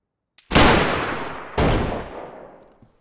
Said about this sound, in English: You're shooting with a rifle.